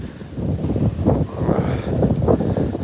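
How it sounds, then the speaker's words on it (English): Wind gusting across the wooden Red Oak Creek Bridge, a continuous low rumbling buffet against the microphone that swells and eases over a few seconds. "I know you can probably hear that wind."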